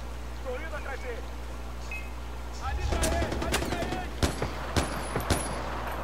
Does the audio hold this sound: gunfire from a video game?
yes